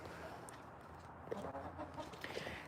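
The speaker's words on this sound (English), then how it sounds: "Chicken on the loose." Chicken loose in a yard, clucking softly in short scattered bursts over steady background noise.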